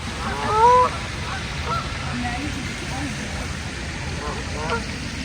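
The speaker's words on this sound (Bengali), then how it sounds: "অনেক বড় বড় হাঁস পাখি" Geese honk at a pond in America: a loud burst of honking near the start, then scattered calls over a steady outdoor background murmur.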